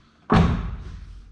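A single heavy thud of a car door being shut on an Audi A6 allroad C8 under rebuild, close and loud, with a short dull ring-out afterward and no talk.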